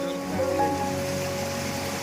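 Steady broadband rush of falling water at a hillside waterfall near Lammasingi viewpoint at night, continuous and fairly close, with no breaks.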